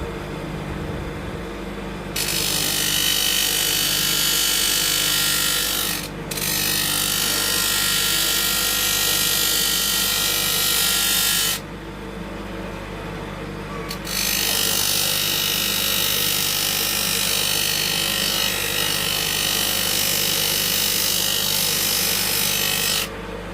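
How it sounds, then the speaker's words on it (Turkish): A sharpening machine grinds an old cleaver blade in two long, loud, harsh passes separated by brief quieter gaps where only the motor hum continues, close and steady with no talk. "Makinemizi çalıştırıyoruz. Satırımızı alıyoruz."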